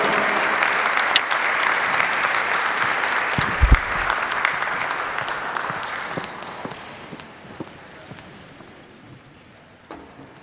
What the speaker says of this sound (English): please, one more round of applause for our seniors